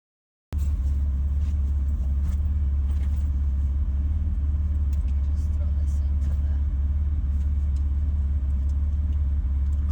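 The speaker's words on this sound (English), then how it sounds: "that car was running a little rough" A BMW X3 M engine tuned to over 750 wheel horsepower idles roughly with a deep, uneven rumble, pulsing and stumbling at regular intervals, loud and close throughout.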